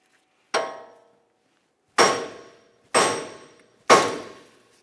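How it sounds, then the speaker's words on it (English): A hammer strikes a front wheel bearing hub on a Jeep Renegade steering knuckle four times, sharp metallic knocks with short ringing decays, the first single blow followed by three evenly spaced hits. "If you don't, a hammer will do"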